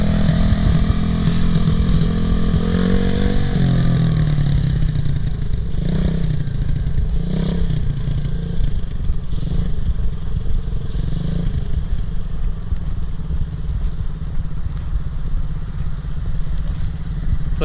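A motorcycle engine runs loud and close while being ridden, its steady drone rising and falling with throttle changes and a few revving swells, continuous throughout.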